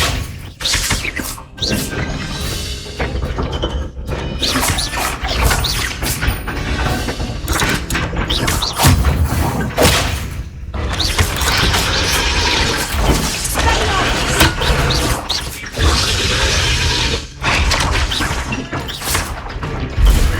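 Spell blasts and crashes in the Hogwarts Legacy wizarding game pile up rapidly during a dragon rescue fight, giving dense, continuous bangs and smashes. Voices shout over the clamour throughout.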